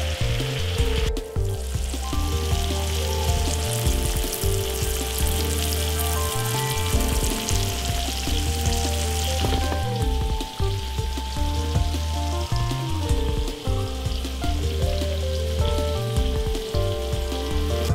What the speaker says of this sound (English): I got a few more left in which I'm frying up at the moment.